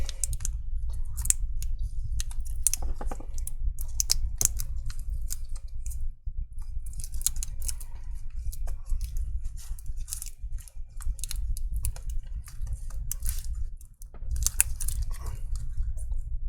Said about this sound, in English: Just going to tape this thing down